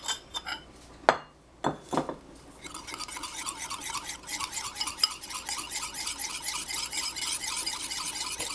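Mayonnaise is hand-whisked in a bowl: a few sharp metallic clinks and taps open, then a quick, steady rhythmic scraping and swishing of the whisk against the bowl continues at moderate volume.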